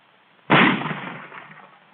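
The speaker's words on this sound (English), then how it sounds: "Here's a rifle grenade. Watch the recoil." A rifle grenade is fired: one sudden loud blast that trails off into a fading rumble over about a second and a half, with no voices.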